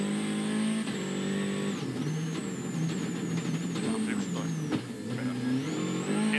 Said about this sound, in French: on savoure le passage dans ses épingles où le frein à main évidemment sert largement